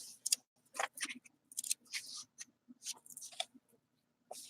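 Scissors snip through material in a quick irregular series of about a dozen crisp close cuts, quiet, with brief pauses between them and no talking.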